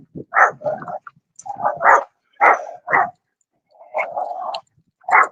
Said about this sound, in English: she's gonna start growling, and she's gonna start barking